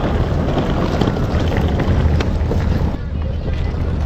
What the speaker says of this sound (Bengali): এই যে আমাদের জাহাজ সবাই যাচ্ছে